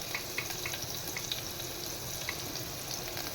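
Chopped onion hitting hot tempering oil that already holds curry leaves, for a bhindi saar, giving a steady close hiss with small crackles throughout, no talking over it.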